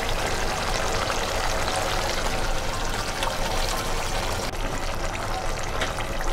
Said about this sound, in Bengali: তারপরে গ্রানের জন্য একটু ঘি অ্যাড করব।